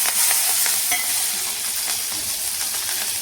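Crushed garlic and chopped green chilies fry in hot oil in a pan, a steady close sizzle with occasional stirring clicks, no voices.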